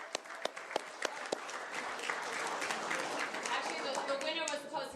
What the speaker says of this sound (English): Give her another applause.